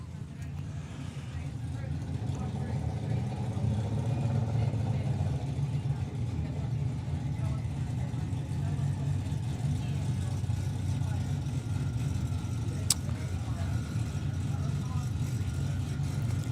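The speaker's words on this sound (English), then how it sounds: "So the nitrous assisted Chevy of Laurie. Wheels up launch, lovely job." A nitrous-assisted Chevy doorslammer drag car launches wheels-up at a drag strip, a steady heavy engine roar heard from a distance, with a commentator talking over it throughout.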